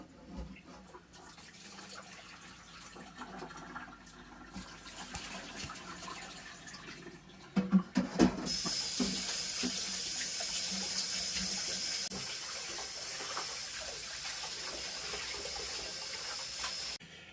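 Tap water pours steadily into a sink while pork bung is rinsed, starting with quieter handling and splashing, then a loud, continuous hiss of running water that drops slightly in level partway through and continues to the end.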